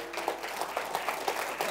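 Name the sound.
applause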